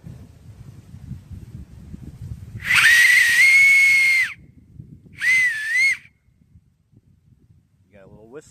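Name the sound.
whistle blown through an acorn cap held between thumbs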